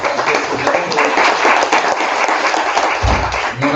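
Audience at a logistics conference in Verona applauding, sustained lively clapping from a sizable crowd, loud and even throughout, with a low thump near the end.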